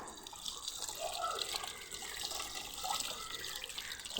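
Running water splashes steadily while a lamp is washed outdoors in sunlight, a continuous close hiss and patter with small drips, no talk over it.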